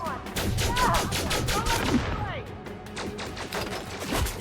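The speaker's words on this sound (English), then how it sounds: "they started shooting each other" Rapid bursts of gunfire ring out in Elite Dangerous, dense and loud at first and then thinning to scattered shots, with a voice talking over the fire.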